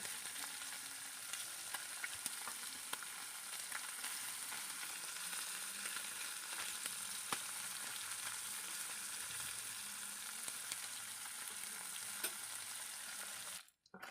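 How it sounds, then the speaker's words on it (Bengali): Small tengra fish fry in hot oil in a pan, giving a steady, even sizzle with faint crackles that runs alone for about fourteen seconds before cutting off abruptly at the end. "প্রথমে আমি বেশ কিছুটা মাছ আমি দিয়ে দিচ্ছি এটাকে ভালো করে ভেজে নেব"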